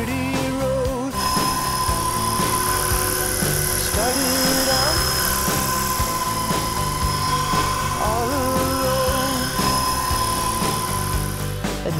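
Loud, continuous whine and buzz of a small remote-control helicopter hovering close by, with a steady high-pitched rotor drone throughout.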